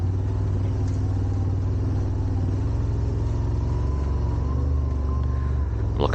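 A Yamaha Wolverine RMAX2 side-by-side drives over rocky trail in Calabogie, its engine a steady, close droning rumble with faint knocks and rattles throughout.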